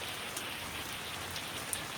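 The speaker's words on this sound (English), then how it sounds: "it's rained for a good while now." Heavy rain pours steadily during Hurricane Milton in Florida, a dense, continuous hiss of drops on surfaces with no voices, close and constant throughout.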